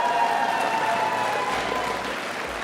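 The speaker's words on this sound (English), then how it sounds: "give it up one more time for the victorious" Crowd in an esports arena applauding the winning League of Legends team at an LEC match, dense sustained clapping and cheering that slowly fades, loud and alone.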